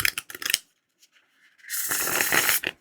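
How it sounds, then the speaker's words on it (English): A deck of Autumn Season tarot cards on good card stock is riffle-shuffled: a few light taps and flicks, then a close, steady whirring flutter of cards that runs for about a second before stopping. "I thought I would just show the shuffle before we move on to the winter deck."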